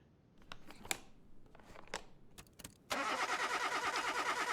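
Car engine with low compression being cranked over for a compression test, a rapid rhythmic churning that starts abruptly after a few clicks and taps, close and steady.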